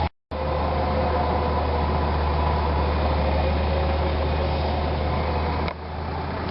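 Four-wheel drive engine labouring as its tyres spin on a muddy bush hill, a steady loud rumbling drone that holds throughout with a brief dip near the end, no talking.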